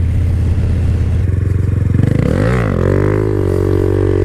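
A Honda Grom motorcycle rides during wheelie and stoppie practice, with a loud, close engine buzzing steadily, then its pitch rising and dipping as it revs and shifts, under heavy wind rumble.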